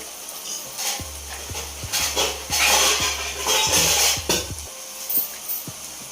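A metal lid clanks repeatedly onto a pot of mushroom curry in tomato gravy, a series of close, sharp knocks over a low kitchen hum.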